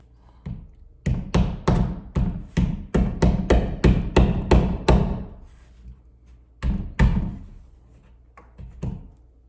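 Drywall anchors tapped into a wall while a thermostat is installed: two bursts of sharp, evenly spaced hammer knocks, about a dozen, then a pause and a few more taps, close and loud with no talk.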